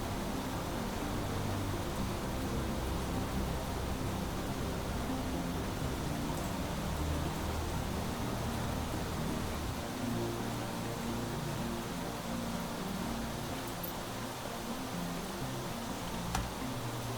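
Steady rain in the video game Planet Crafter hisses evenly and continuously, a constant soft wash of noise with no talking over it.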